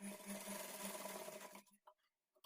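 A sewing machine stitches the crossed edges of blouse fabric with a quarter-inch margin, whirring steadily and close for over a second and a half before stopping, followed by a few soft handling sounds.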